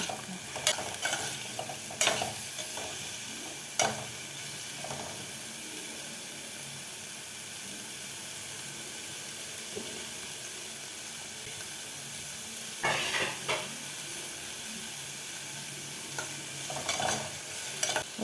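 Ingredients for brinjal curry fry and get stirred in a pan, giving a steady sizzle with repeated scraping clacks of the spoon against the pan, at close range and with no talk.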